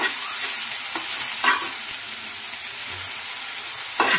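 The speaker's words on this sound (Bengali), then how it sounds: "সোয়াবিনটা একটু হালকা ফ্রাই করে নেব" Soybean chunks fry with a little salt in a pan, a steady bright sizzle broken by a few scraping clicks of stirring.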